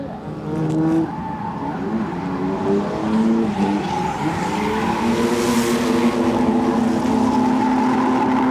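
A diesel drift car at a Palanga drift competition brakes hard on the handbrake with its front wheels locking, giving a loud sustained tire screech over a rough engine note that continues steadily throughout.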